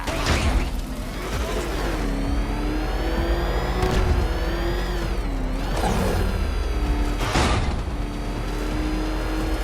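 The Batmobile's engine in Batman: Arkham Knight, a steady loud whirring drone that rises and dips in pitch as it revs, with a few sharp impacts breaking through, no talking.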